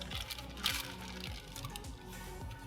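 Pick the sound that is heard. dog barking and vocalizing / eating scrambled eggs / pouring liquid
pouring liquid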